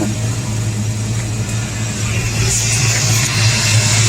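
A 5.0 engine runs steadily close by with a low, even rumble and a slight lift in revs near the end. The car's power steering pump is low on fluid. No one speaks.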